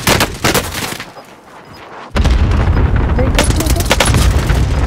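Loud, close gunshots in Call of Duty Warzone, bursts of firing at the start, a brief lull, then a sustained barrage of heavy, booming shots, with voices talking over the shooting.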